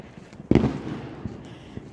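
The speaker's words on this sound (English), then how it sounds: "there's fireworks going off." Fireworks go off outdoors: one sharp loud bang followed by a few fainter pops and crackles spaced out over the next second or so.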